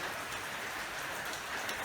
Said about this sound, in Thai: ฝนยังตกเลย